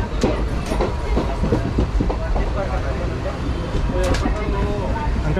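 A passenger train rolls into Haridwar railway station from Dehradun, its steady rumble and clatter of wheels on track filling the carriage close up, with faint voices of passengers scattered underneath.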